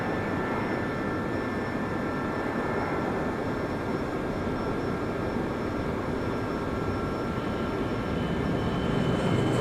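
A simulated airliner lands in the Eurofly 3 flight simulator game, with a steady, even roar of jet engines and reverse thrust that holds throughout at moderate loudness, with no voices.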